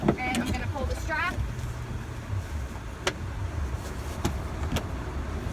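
The rear seat of a 2017 Chrysler Pacifica minivan is pulled by its strap and folded flat into floor storage, with a few scraping movements and then sharp clicks and thuds spaced apart.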